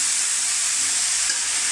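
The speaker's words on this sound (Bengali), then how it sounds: "সবজিগুলো দিয়ে দেওয়ার পরে এখন উল্টো পাল্টা নেড়ে চেড়ে নিচ্ছি" Chopped vegetables frying in a hot pan while being turned over, making a loud, dense, unbroken sizzle heard close up with no voices.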